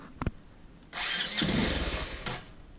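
A Honda CBF 150 motorcycle under repair fires up: two quick sharp cranking taps, a pause, then the engine catches into a loud, steady, rough idle that holds close by.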